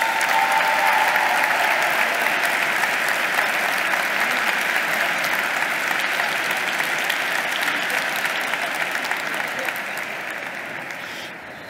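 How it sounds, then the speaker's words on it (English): A graduation ceremony audience breaks into sustained applause, a loud, dense clapping that holds steady and then slowly tapers off toward the end. "A round of applause also for Martina Stanzani."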